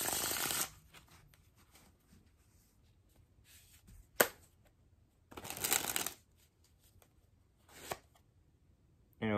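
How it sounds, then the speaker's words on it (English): Casino Royale playing cards by Cartamundi are shuffled in several short, crisp riffles with bursts of rapid fluttering, separated by quiet pauses and a few light taps, close and clear. "And this has a really nice shuffle feel."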